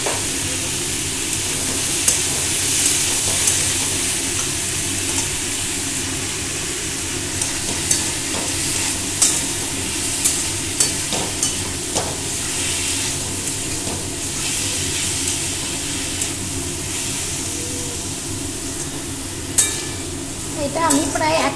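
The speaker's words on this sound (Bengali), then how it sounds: "এটা আমি প্রায় 1 মিনিট মতো ভেজে নেবো" Chicken stew ingredients fry over a medium flame in a pan, giving a steady broadband sizzle with scattered scraping clicks from stirring throughout, with no one talking.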